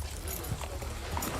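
Horse hooves clip-clop from a Game of Thrones scene, a faint, steady walking rhythm under a low wash of background noise.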